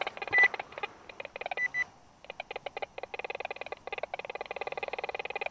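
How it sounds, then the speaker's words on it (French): A Quest Q40 metal detector pinpointer beeps in a field, fast evenly spaced electronic pulses with a short pause, then a steady rapid train, faint and close with no talk. "Je vais sortir le pinpoint."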